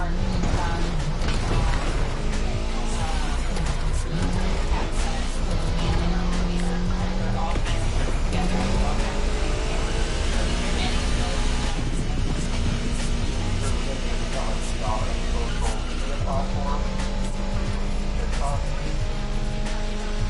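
A rally-fitted RB20 car with rally tyres and beefier suspension drives in The Crew Motorfest, its engine droning steadily with shifting pitch under continuous talking.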